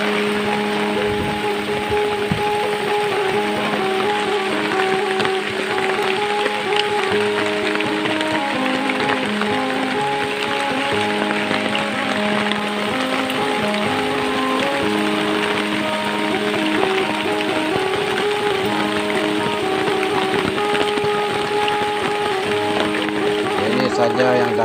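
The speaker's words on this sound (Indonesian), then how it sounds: "Sekejap saja hujan turun, sekelip mata air sudah berkakung kawan-kawan." Steady heavy tropical rain in Borneo falls on farmland being cleared of bushes, drumming on a surface, a constant dense hiss that lasts throughout without letting up.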